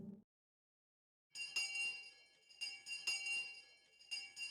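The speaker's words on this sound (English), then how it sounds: "Just then we heard a bell far away, marking the end of our lunch break." A school bell in the video game Higurashi: When They Cry rings to end the lunch break, a bright, bell-like ringing that starts after a brief silence and pulses in several repeated strikes with a lingering ring between them.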